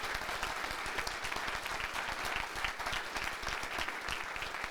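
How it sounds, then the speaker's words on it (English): An audience at a university state-of-the-university address breaks into steady, sustained applause. The clapping is dense and even and sounds somewhat distant, continuing throughout with no clear speech over it. "may I please ask for a big applause for this number"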